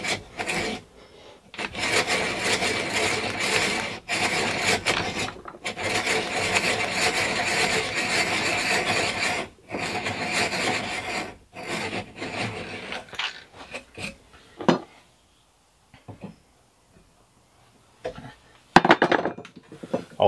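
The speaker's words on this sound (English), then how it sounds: "And I'm using my old Stanley Continental drill." An old Stanley Continental hand drill boring into old chair legs set aside for tool handles, giving a steady close grinding rasp in long continuous bursts with brief pauses, then trailing off into sparse scrapes and knocks.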